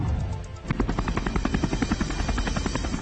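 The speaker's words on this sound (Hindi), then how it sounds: "चिनूक अमेरिका से खरीदा गया वायुसेना का सबसे हेवी लिफ्ट हेलीकॉप्टर है।" A Chinook heavy-lift helicopter of the air force, flying on the Amarnath Yatra route, sounds close and loud, its heavy rotor thudding in a fast, steady rhythm over a constant engine roar.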